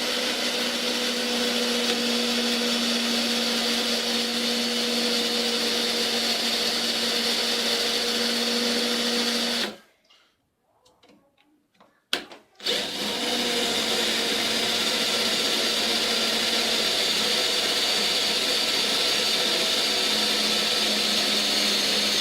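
A power drill bores holes into knife handle pieces for a homemade karambit, a loud, steady motor whine running about ten seconds, stopping briefly, then resuming at the same level until the end.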